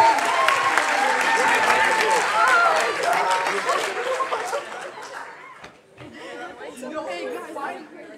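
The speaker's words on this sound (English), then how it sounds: "a wonderful round of applause for the literature group" A closing-ceremony audience applauds the literature group at ISWI 2019, clapping mixed with loud crowd chatter and some laughter, fading somewhat midway and then picking up again.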